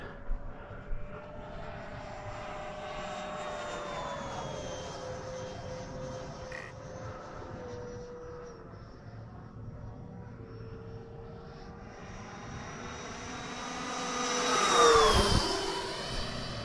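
An Avanti S v2 RC jet on a 6S 10,000 mAh battery whines overhead at partial throttle, a steady high-pitched electric ducted-fan tone that swells into a loud close pass near the end.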